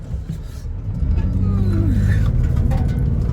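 A 2008 Nissan Murano engine idles unevenly with a rough, stumbling misfire, heard up close with a faint voice in the background.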